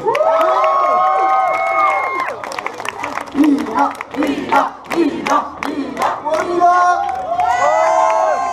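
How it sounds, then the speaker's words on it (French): At the Yerres town festival concert, a crowd on an outdoor stage shouts and cheers in loud, voiced bursts, with a run of sharp clapping in the middle before the shouting swells again. "Applaudissez Mila s'il vous plaît."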